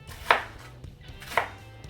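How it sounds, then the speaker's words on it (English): A knife chops through a red onion on a cutting board in two distinct, well-spaced thuds, cutting it into big chunks, close and clear with no talking. "Now when you're doing this onion, you don't need to cut it up all pretty."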